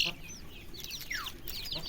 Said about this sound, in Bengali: আর এইগুলা হলো আমার দেশি মুরগি